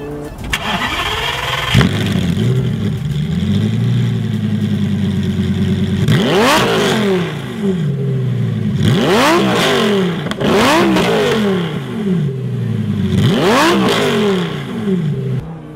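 A Lamborghini Gallardo's 5-liter V10 engine starts and idles, then revs hard three times in sharp, rising bursts toward its 8,100 RPM redline, loud and close.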